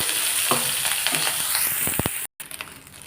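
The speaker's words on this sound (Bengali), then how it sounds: "এই যে সোয়াবিনগুলোকে ভাজা করে নিচ্ছি" Soybean chunks sizzle steadily in hot oil close up, with a few scraping stirs and a brief cut-out near the end.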